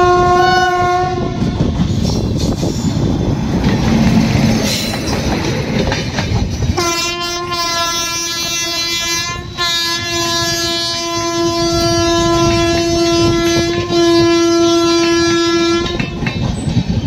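A train rolls through Ballia station with rumbling wheels and clattering cars, and its horn blares loud and long, sounding in sustained blasts over most of the pass.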